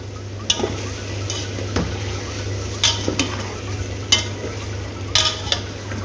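Boiled camel meat stirred into masala in a pan, a faint sizzle over a steady low hum, punctuated by several sharp clinks and scrapes of a utensil against the pan at irregular intervals, close by.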